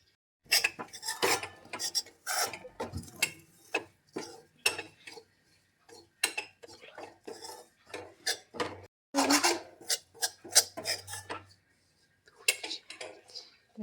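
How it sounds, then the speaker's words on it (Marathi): Dry date powder being roasted in ghee in a pan for dink laddu, with a spoon scraping and clinking against the metal in irregular close strokes, no talk over it. "आता खारीकची पावडर आपण तुपामध्ये भाजून घेऊ"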